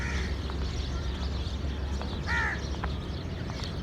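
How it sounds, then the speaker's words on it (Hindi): Crows cawing around a railway station in New Multan, Pakistan, with a couple of short harsh calls standing out over steady ambient station noise. "ऊपर सारे कव्वे हैं"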